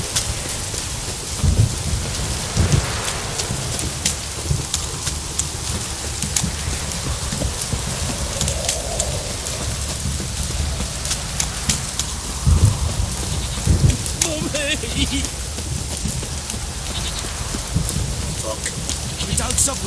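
Steady rain pours throughout in the video game The Witcher 3: Wild Hunt, with low rumbles of thunder rolling in now and then, and a voice speaks faintly underneath.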